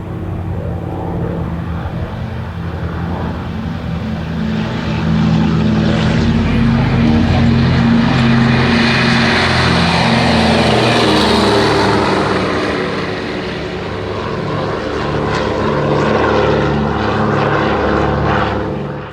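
Douglas DC-3 propeller airliner, formerly flown by the RNZAF, with its piston engines droning steadily and loudly throughout, swelling in the middle as the aircraft passes, with a rough propeller rumble and broad roar.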